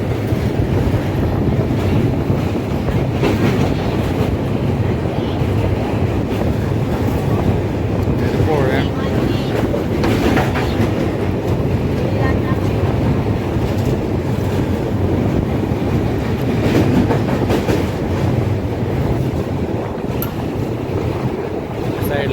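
Steady loud rumble and clatter of a train rolling across a bridge, with strong wind buffeting throughout.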